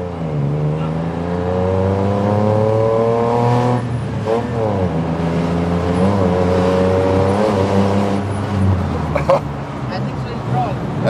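A turbocharged tuk-tuk races through city traffic in Bangkok's Chinatown in Thailand, its engine revving and whining through repeated rising and falling gear changes. Loud, close road noise runs throughout under excited talking.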